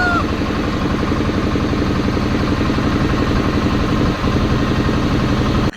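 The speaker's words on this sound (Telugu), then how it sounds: "అంతా బాగానే ఉంది, కానీ బోట్ సౌండ్ అయితే చాలా ఎక్కువగా వస్తుంది" A boat engine drones loudly and continuously during a ride on the water, a steady, throbbing low rumble with a mechanical pulsing texture close to the listener.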